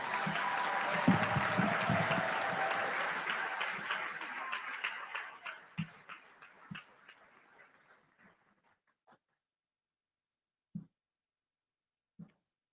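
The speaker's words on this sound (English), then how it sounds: "A round of applause for associate degree candidates." Applause from a commencement ceremony crowd for associate degree candidates, dense at first, then thinning into scattered claps that fade out, with a few isolated claps near the end.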